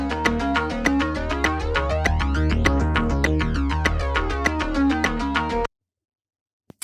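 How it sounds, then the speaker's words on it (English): A Yamaha DTX electronic drum kit's click track, set so it lands on the off beat, ticks in a steady even pulse over a looping pattern, then stops abruptly into silence with a couple of faint taps at the end. "So it thinks the on beat is the off beat and the off beat is on the on beat."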